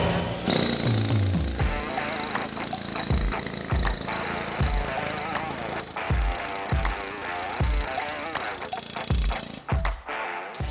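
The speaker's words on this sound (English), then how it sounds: "we start with the jackhammer, which is really noisy." A loud jackhammer breaks the sand core out of a metal engine cylinder casting, pounding in rapid bursts with regular heavy thuds, harsh and close, continuing throughout against a noisy industrial background.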